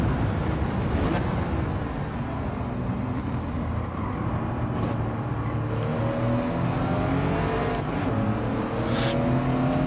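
A race car in Gran Turismo 7 roars steadily and loudly. Its engine pitch climbs in long rising sweeps as it accelerates through the gears.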